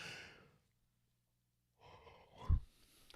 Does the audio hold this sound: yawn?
yes